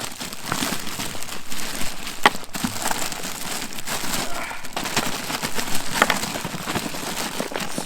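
Ice cubes crunch and crinkle as they are loaded through the narrow zipper of a Yeti Hopper 20 soft cooler, a loud, continuous rattling and crushing with sharp clatters and no talk.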